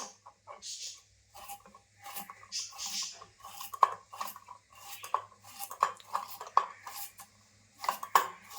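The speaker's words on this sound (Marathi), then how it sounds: "आता मस्त अशी पातळ पातळ कापून घेते" A knife slices bitter gourd thinly on a board, making irregular close taps and scraping cuts in short bursts with pauses between.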